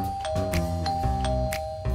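A doorbell on a door at the end of an underground tunnel in a Crayon Shin-chan animated film rings in several bright, repeated chimes over a sustained musical tone.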